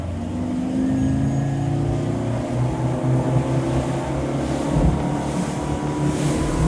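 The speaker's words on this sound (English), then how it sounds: "the boat sounds very robust" An Axopar 29 CCX motorboat's engine drones steadily at about 35 knots, with a constant low hum, rushing wind and water noise throughout.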